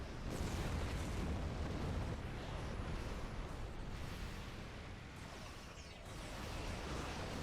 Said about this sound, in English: There's those heavy plasma torpedoes.